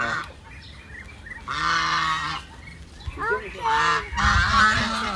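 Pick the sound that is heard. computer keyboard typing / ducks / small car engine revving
ducks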